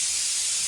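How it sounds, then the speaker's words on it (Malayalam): A pressure cooker cooking jackfruit seeds vents steam through its whistle as a short, loud, even hiss heard up close with nothing else over it. "വിസിൽ വന്നു, അപ്പൊ നമുക്ക് ഓഫാക്കാൻ പോകാം"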